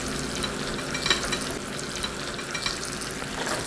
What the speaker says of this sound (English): There's a nice little sizzle coming up on the chicken now